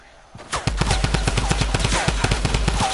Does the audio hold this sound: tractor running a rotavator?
no